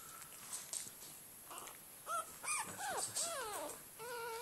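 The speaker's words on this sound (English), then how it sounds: "And there's the big puppies, Bumblebee and the bear." Large dogs whimpering and whining faintly, a few rising and falling high-pitched whines grouped toward the end of the stretch, with no talking.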